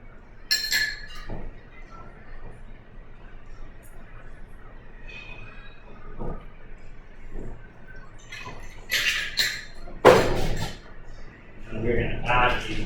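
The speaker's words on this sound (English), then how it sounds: "we will pour this into a double box glass" Chilled Old Fashioned cocktail poured into a double rocks glass, a few bright glassy clinks and liquid splashes near the end, with a person talking throughout.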